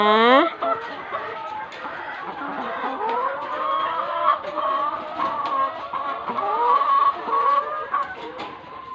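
Hens cluck steadily throughout on a Thai egg-laying farm, with a rooster's crow near the start and a voice singing and talking over the flock.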